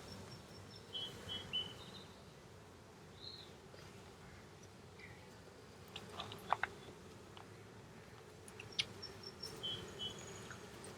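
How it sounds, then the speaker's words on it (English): Soft, steady buzzing of honeybees in a hive after being shaken back in, with a few faint clicks and brief higher chirps over the low droning background. "after shaking the bees back into the hive, the buzz has changed"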